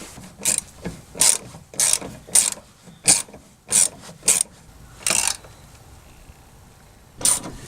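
A ratchet with a 14mm socket tightens a fuel tank strap on a 2010 Toyota Tundra, giving about ten close, crisp bursts of clicking in a steady rhythm, with a longer pause before the last one.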